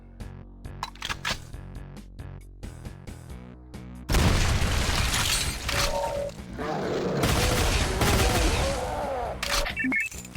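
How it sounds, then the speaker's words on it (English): Rapid bursts of pulse rifle fire from Ultimate Doom crackle in quick succession, dense and loud over a game soundtrack, with sharp clicks and impacts before a heavier stretch of continuous shooting. "Switch over to pulse rifle for now."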